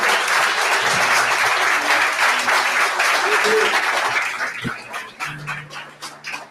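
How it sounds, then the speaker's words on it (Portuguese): Church congregation applauding at a Portuguese-language family service, loud sustained clapping from many hands that tapers off, with voices and a dog barking underneath toward the end. "Aplauda mais uma vez."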